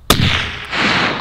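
A single sharp rifle shot from a Sig Sauer Cross bolt-action rifle fired outdoors at a 503-yard target, loud and close, with a sudden crack followed by a long rolling echo that fades and swells again.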